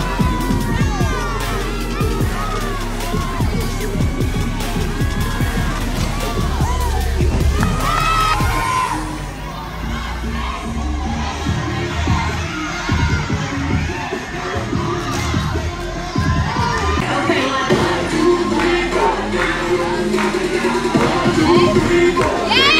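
A crowd at a cheerleading competition cheers and whoops for the Panthers, loud and close with excited shouting voices, bursts of applause-like noise, and people talking nearby.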